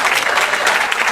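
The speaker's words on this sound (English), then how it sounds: "recommit you can clap" Audience at an Interfaith Committee for Workers Justice rally applauding, a brief dense burst of clapping from a crowd, loud and close.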